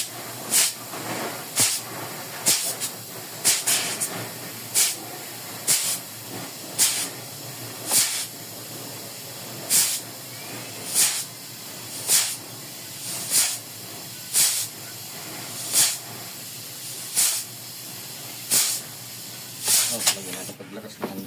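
Repeated sharp hissing bursts of air or steam escape from the AC compressor on a Mitsubishi L300 with a 4N14 engine, about a dozen short spurts at a roughly steady rhythm, loud and close.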